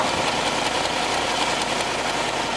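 A Chevrolet 327 fuel-injected V8 runs steadily at idle, loud and close, with a continuous throb and no voices.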